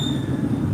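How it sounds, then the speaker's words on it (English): A continuous low rumbling drone carries a thin, high-pitched squeal of rubbing bicycle disc brakes over it, steady and fairly loud throughout the brief stretch. "I can hear somebody's disc brakes rubbing and it's highly triggering."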